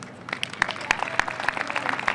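Audience applause for a church group's therapy comfort dogs at a community event, steady clapping with scattered sharper claps, moderately loud and fairly close.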